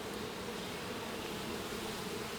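Nurse bees buzz on a brood frame as it is checked over an open hive box, a constant close drone with no other sounds.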